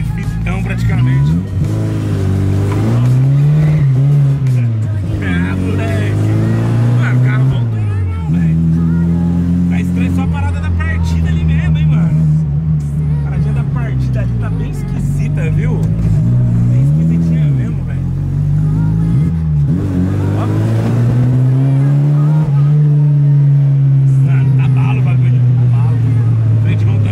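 A Chevette's engine revs up and down in loud repeated surges as the car is thrown sideways with the handbrake, close and continuous, with people talking over it.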